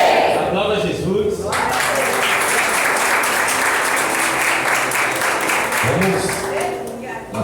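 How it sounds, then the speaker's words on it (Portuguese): A church congregation at a service in Aracaju claps loudly and steadily for several seconds, a thick wash of many hands, with a voice heard over it near the start and again near the end. "Aplauda Jesus."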